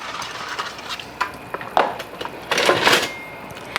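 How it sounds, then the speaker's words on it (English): Soft scraping and clinking of a utensil stirring spaghetti in a pot of boiling water, with a few louder swishes toward the end, close by and without talk. "Make sure you stir it a little bit when you first put it in"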